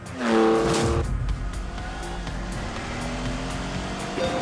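A Lamborghini Countach with a 48-valve 5.2-litre V12 in The Grand Tour video game drives along, a steady loud engine drone with a rising rev at the start, then continuous running throughout.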